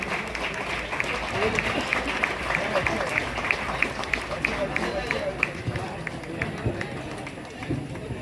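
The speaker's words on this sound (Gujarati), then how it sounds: "ખૂબ તાળીઓથી આપણે વધાવી લઈશું." Audience applause at a Gujarati award and felicitation ceremony in Matar, steady rhythmic clapping from the hall, with a voice speaking over it.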